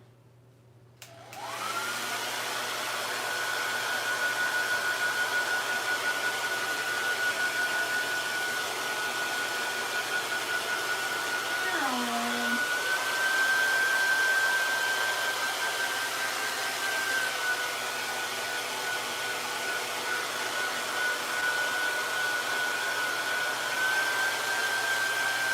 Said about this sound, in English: I apologize for the sound of the hair dryer.